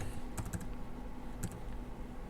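Fingers tap on a computer keyboard in two short bursts of a few clicking keystrokes each, close by, over a steady low background hum.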